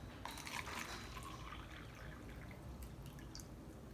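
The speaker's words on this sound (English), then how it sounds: "And then I'm going to take my hot water and pour it into this cup." Hot water pours steadily into a cup, a continuous soft liquid rush with faint splashy detail throughout, quiet and close.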